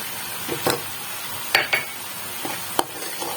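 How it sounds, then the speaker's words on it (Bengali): Masala spice paste fries in a pan, a constant close sizzle with a few sharp scrapes of a spoon stirring against the metal. "এবার মশলাটা আমি খানিকক্ষণ কষাবো।"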